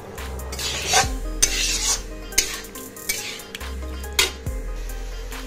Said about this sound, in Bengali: তো এর পরে এটাকে ভালো করে মিলিয়ে দিচ্ছি